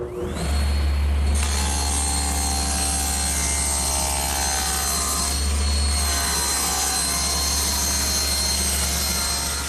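A saw rips thin splines, one inch wide and a quarter inch thick, from a piece of wooden decking, making a loud, steady, droning whine that holds for the whole stretch with a slight swell midway.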